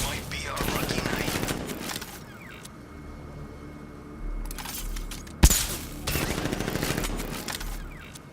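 Heavy cannon fire from the Batmobile in the Batman: Arkham Knight video game, with loud bursts of rapid mechanical gunfire at the start and end, a sharp single blast mid-clip, and a low rumble between.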